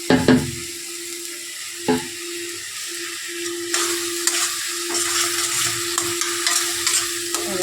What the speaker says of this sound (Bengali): ভালো করে এটাকে কষাবো মশলাটা